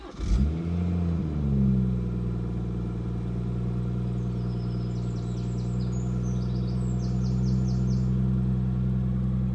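A 2019 BMW M140i with a ZF automatic fires up with a quick starter crank and a sharp rev flare. It then settles into a smooth, steady idle heard close by.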